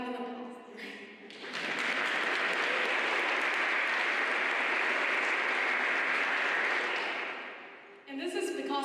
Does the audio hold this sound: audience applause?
yes